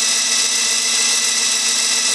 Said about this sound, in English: Burning up the drill.